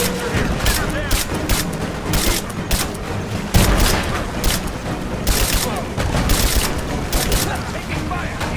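Dense, continuous gunfire from a Rise of the Tomb Raider firefight at the Acropolis during a rescue mission, with rapid bursts and heavy booms layered loudly throughout, while shouted combat voices cut in over the barrage.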